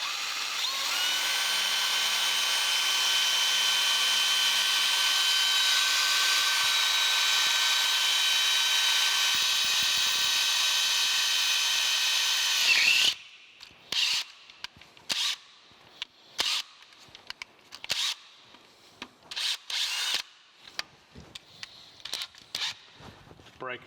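A steady, loud drill whines into metal for a long stretch, boring a tapped hole for a 5/8-11 thread in a metal planer motor mount, then stops, followed by short clanks and scraping bursts.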